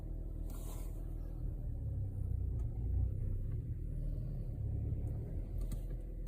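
Saab 9-3 car engine idling low while the car reverses: a quiet, steady rumble with faint scrapes and light clicks over it, no sharp revving.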